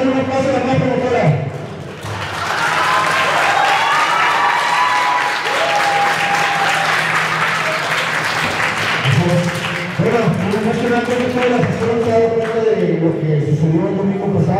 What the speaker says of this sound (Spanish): vamos a darle un aplauso a la mano como fuera.